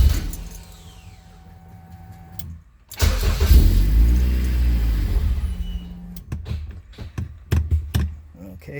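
A Honda CRX fitted with a K24 engine cranks and catches, its idle rumbling steadily for a few seconds before stalling on its own, followed by clicks and knocks nearby, with no talk over it.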